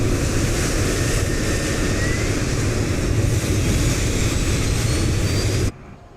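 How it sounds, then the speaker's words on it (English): An aircraft APU spooling up in a flight simulator game, a loud steady broadband roar with a faint rising whine, continuous for several seconds before cutting off abruptly near the end. "so we're gonna get the APU started here"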